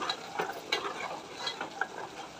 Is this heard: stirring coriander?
yes